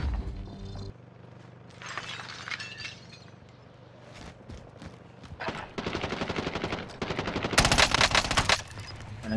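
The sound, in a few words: sniper gunfire in Call of Duty: Warzone video game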